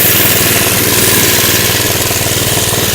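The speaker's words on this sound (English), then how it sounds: "This thing rides rough, but it's a mini bike, so it's gonna do that." A small mini bike engine runs steadily and loud at close range during a ride, with a rough, buzzing, uneven putter throughout and nothing else over it.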